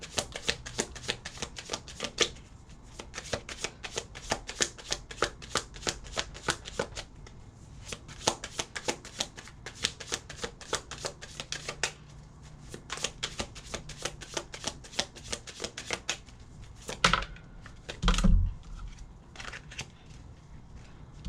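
Tarot cards are shuffled close up in a steady, fast run of crisp riffling and snapping flutters, with a few heavier taps and knocks near the end and no voices.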